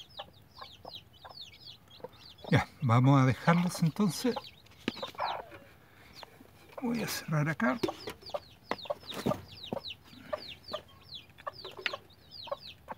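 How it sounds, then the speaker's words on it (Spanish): Four young chicks cheep in rapid, high repeated peeps throughout, close by, while a person speaks Spanish over them in short bursts and some handling noise intrudes. "Los cuatro pollitos."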